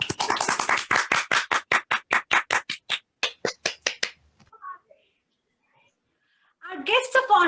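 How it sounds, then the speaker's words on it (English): Audience at a college tech event applauding a chief guest, a burst of dense clapping that thins into a few separate claps and fades out, followed by a voice speaking. "Big applause for our esteemed chief guest"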